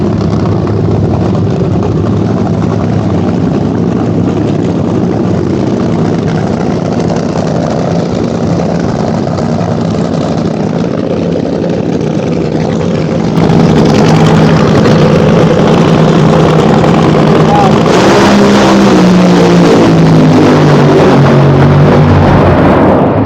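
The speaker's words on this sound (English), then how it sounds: "hopefully you'll hear in the background, you'll hear this car. Let's see what it sounds like." A Sportsman drag racing car's engine rumbles loud and steady at a dragstrip, growing louder partway through with a rising, sweeping roar as the car launches or passes nearby.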